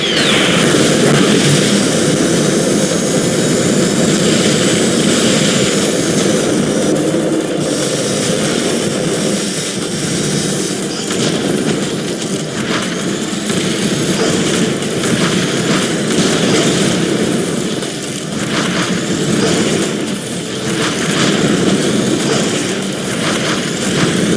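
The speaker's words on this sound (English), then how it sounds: "Gunships attacking the alien." Air support gunships attack in the X-Morph: Defense tower defense game, a loud, steady roaring engine drone with a whining jet-like edge that holds without a break.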